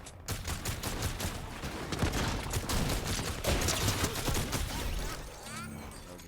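A gun fires repeatedly in the video game Fortnite, a rapid continuous stream of shots filling the scene, loud and close, tapering off near the end.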